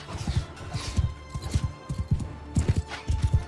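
Horses of mounted horse bowmen galloping across a Bannerlord battlefield, a fast, rhythmic run of heavy hoofbeats in repeated clusters, fairly close and loud, with a brief whinny and no talk over them.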